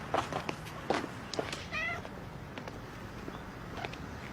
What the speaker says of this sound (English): Is that your cat?